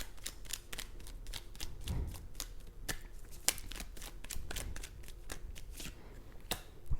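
Tarot cards being shuffled and pulled from the deck, a steady run of crisp close riffling clicks and flicks with no talking.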